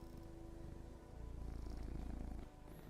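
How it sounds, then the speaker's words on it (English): A cat purrs right up against a microphone, a steady close rumbling purr that swells louder in the middle and then eases, with no talk over it. "He's going to purr into the mic."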